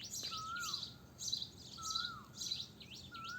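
Small birds chirp and tweet in repeated short bursts, with a clear whistled call recurring every second or so against quiet outdoor background.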